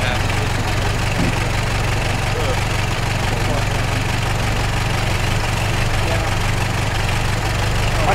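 A loud, steady video game truck engine rumble drones throughout, low and unbroken, like a heavy truck running close by, with speech mixed in.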